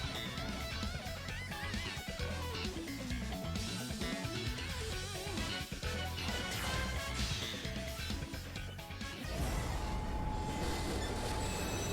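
Unstoppable Train card effect in the Yu-Gi-Oh Duel Links video game: a dense, continuous rumble of rolling train noise with squealing, clattering metallic tones, loud throughout and shifting to a heavier impact-like roar near the end.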